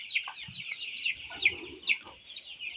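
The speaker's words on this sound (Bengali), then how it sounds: "এটা হচ্ছে দেশি মুরগির বাচ্চা" Native Bangladeshi chicken chicks cheeping on a farm, a rapid series of high, thin chirps from several birds close by, with some soft clucking beneath.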